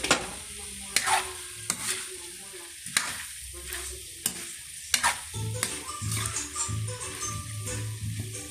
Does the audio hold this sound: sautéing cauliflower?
yes